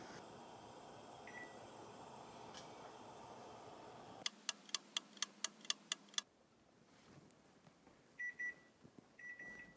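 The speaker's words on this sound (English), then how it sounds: "So that was our timer." Kitchen timer alarm ringing in a rapid burst of sharp, bright beeps for about two seconds, loud and close, after a stretch of faint background hum and ticking, with a few softer beeps later.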